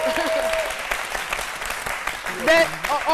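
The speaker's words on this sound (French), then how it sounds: "je vais vous demander de recevoir avec des ovations bien nourries, sinon de l'applaudir et de le saluer" A studio audience applauds at a televised midday show, dense steady clapping that swells near the end while voices talk over it.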